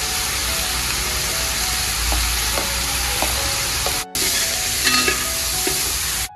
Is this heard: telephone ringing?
no